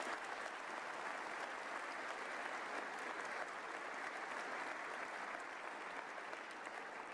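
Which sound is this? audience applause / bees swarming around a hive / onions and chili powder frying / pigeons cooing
audience applause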